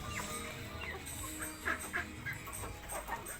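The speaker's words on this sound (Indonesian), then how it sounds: "ini ayam-ayamnya ada total sekitar 500 ekor ini saudara" A backyard flock of about 500 free-range village and Bangkok chickens clucks continuously, overlapping calls near and far, with occasional louder squawks rising above the steady chatter.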